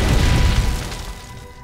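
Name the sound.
explosion in the Hello Neighbor video game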